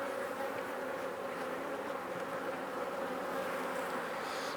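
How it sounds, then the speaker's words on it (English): Honey bees buzz in an open apiary hive during an inspection as a queen is introduced, a dense, steady, close hum with no break and no talking. "Just ease the bees out from beneath it."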